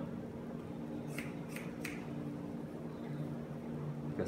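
Scissors snip a child's hair in three quick, crisp cuts close up, with a quiet room hum behind them and no talking.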